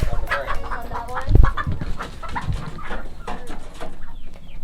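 A backyard flock of chickens, including black Sex-Link hens and other breeds, clucks and squawks close by in busy overlapping bursts, with a low thump partway through and faint talk underneath.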